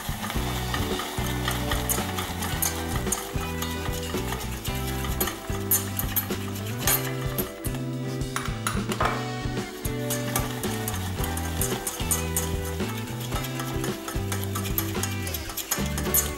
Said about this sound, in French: ajoutez le beurre salé ramolli et remuez toujours à l'aide de votre fouet